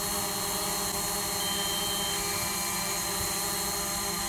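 A DJI Mavic drone hovers and holds position while wobbling in the wind, giving a steady, continuous high-pitched whine and buzz from its propellers, with a constant level throughout and no voices.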